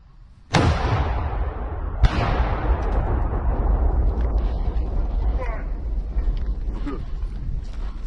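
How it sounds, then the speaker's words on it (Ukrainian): A sharp, loud artillery blast booms out in combat in Ukraine, followed by a second crack and a long rolling echo that rumbles on, with faint voices in the background. "Постріл!"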